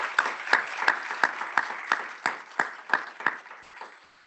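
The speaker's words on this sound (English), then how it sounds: "Let's give them another round of applause." A small panel-discussion audience at a student success summit applauds, giving sparse, fairly slow claps in a loose rhythm that sound close and thin, about a dozen distinct hits that trail off over four seconds.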